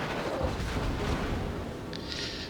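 Naval gunfire in World of Warships, a dense, continuous rumble of booming shots with low-end thunder throughout, steady and loud, with a brief higher-pitched tone near the end.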